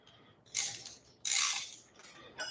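A socket wrench ratchets while a bolt is snugged tight: three quick bursts of clicking, the middle one longest, close and fairly loud against a quiet background.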